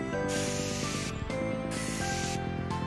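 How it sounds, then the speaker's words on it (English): Short bursts of spray adhesive being applied for a vehicle headliner repair, close and hissing in two or three distinct pulses with brief gaps between them. "You will need to spray just slightly,"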